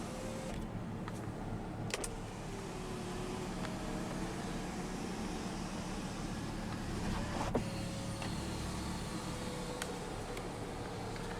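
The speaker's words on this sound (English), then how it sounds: "dual pane power sunroof." The dual-pane power sunroof of a 2012 Nissan Murano SL runs open with a low electric motor whir inside the cabin, faint and steady, with a few small clicks and no talking.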